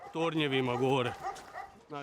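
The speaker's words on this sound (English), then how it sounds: "They keep watch and bark." Prison guard dogs bark and howl in long, tonal, drawn-out calls, one extended bout followed by a shorter one after a brief pause, loud and near.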